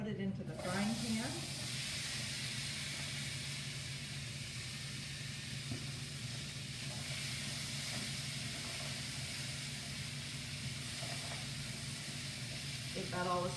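Zucchini and mixed vegetables sizzle in a frying pan, a steady soft hiss and crackle throughout, with a brief clatter at the start.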